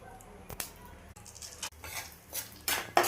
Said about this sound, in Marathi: आता आपण रवा भाजून घ्यायचा.